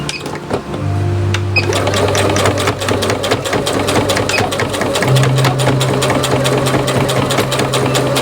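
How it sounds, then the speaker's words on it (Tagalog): A sewing machine starts up after a moment of quiet and runs steadily, a fast rhythmic mechanical rattle with a droning motor underneath, loud and close, with no talking. "balik tayo sa pananahi"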